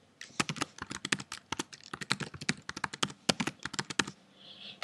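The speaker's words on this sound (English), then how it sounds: "Okay, so type in your password." A password is typed on a computer keyboard in rapid, close, crisp key taps for about four seconds, the run uneven but continuous, with no talking.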